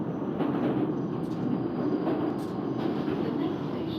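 A London Underground Northern line train in the Open BVE simulator rumbles along steadily, with a low continuous roar of running gear and faint intermittent wheel hiss and squeal, no talk.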